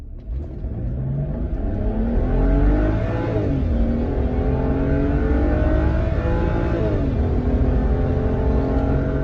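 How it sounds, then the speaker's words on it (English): Used BMW with a pedal tuner accelerating hard from a red light, the engine note rising through gears with two clear shift drops, loud and close from inside the car, no voices. "I'm gonna give this a shot and see what the acceleration is like off the line"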